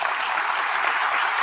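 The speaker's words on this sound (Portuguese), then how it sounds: "Aplauda bem forte ao Senhor." A church congregation applauds in a steady, even wash of clapping at a sermon, loud and close throughout, with no pauses.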